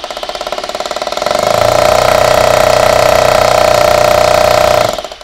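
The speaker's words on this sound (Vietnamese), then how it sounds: "Chức năng khoan bê tông của nó." Bosch hammer drill running in concrete-drilling mode, a loud, close, rapid hammering buzz that ramps up and holds steady for several seconds before cutting off.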